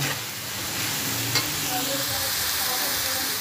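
Whole kernel corn fries and sizzles in a hot pan, a steady hiss with occasional stirring scrapes and a brief clink, continuous and fairly close, with no one speaking.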